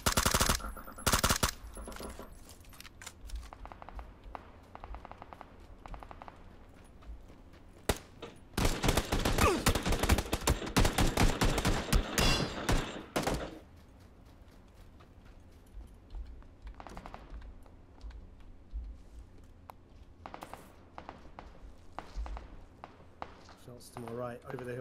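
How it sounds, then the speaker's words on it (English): Gunfire in a multiplayer shooter video game: bursts of rapid automatic fire and scattered single shots, loud near volleys alternating with fainter distant ones, mixed with players talking and keyboard clatter. "Shots to my right, over the hill, man."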